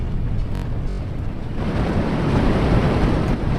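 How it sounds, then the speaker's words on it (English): A synthesized steady roar of ocean surf, broad and rumbling, with waves washing in a continuous wash of noise and no voices. "This is ocean."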